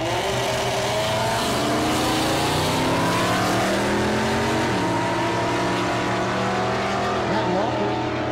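A race car in the 12-0 class makes its first drag racing pass, engine note climbing steadily through gear changes, loud and close, with a voice talking over it.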